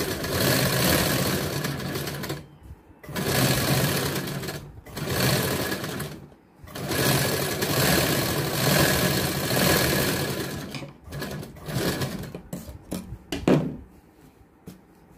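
A sewing machine double-stitches the seams of a katori blouse in loud, close bursts of whirring, with short pauses between runs and a few lighter starts toward the end.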